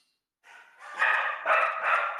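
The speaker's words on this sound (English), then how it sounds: "Sorry about the dogs in the background," Dogs bark and yelp in a few short overlapping bursts, moderately loud and somewhat distant, with no talking over them.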